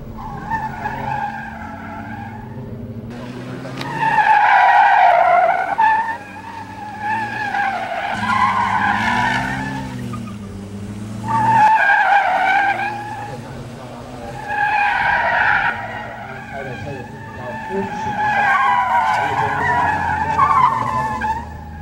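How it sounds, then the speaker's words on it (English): Cars skid through barrel turns in an international gymkhana race, with long loud tire squeals rising and falling in repeated bursts over engine revving, as a commentator talks throughout. "Now it is Yamano in the black car against Kit Mung Lei in the silver car"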